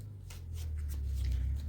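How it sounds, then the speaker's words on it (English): Playing cards are shuffled by hand with soft riffling and rustling bursts, close up over a low steady hum. "I'll shuffle these cards"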